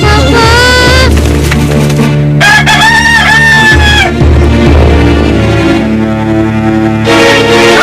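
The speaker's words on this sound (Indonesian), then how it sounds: "Ini ayam berisik aja." A rooster crows loudly in a long, drawn-out call over steady background music in an Indonesian TV drama scene, with a second crow rising partway through.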